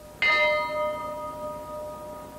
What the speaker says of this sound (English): A ship's bell was rung 7 times for the 5 men and 2 women who died